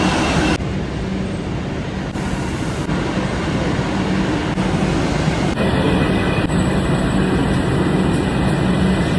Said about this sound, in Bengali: এখন দমদম ক্যান্টনমেন্টে যাওয়ার মেট্রো নেব।